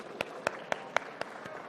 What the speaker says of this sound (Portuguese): eu peço a todos nós agora uma salva de palmas ao deputado federal Pedro Lucas